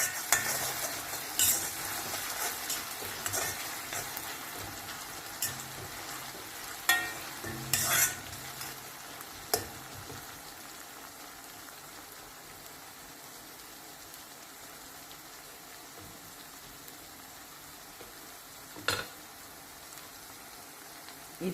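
Steady sizzling of onion and masala frying in a pan with occasional stirring scrapes and clatters, close and continuous, no voices.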